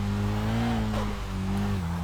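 A car engine drones steadily in the Kaido Racer 2 street racing game, holding a near-constant pitch with a slight rise, then dipping briefly as if shifting near the end.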